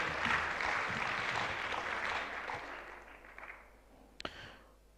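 Applause from an audience welcoming a judge at a national public speaking competition grand finale; broad clapping starts full, thins out and fades, with a few last isolated claps near the end.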